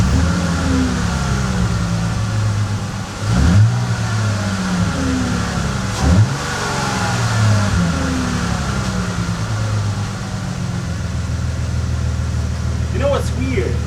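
A Bentley engine under diagnosis revs up in a couple of short bursts, then idles, its steady low drone falling back only slowly. Voices can be heard over it.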